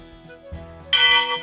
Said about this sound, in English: That's a really loud bell.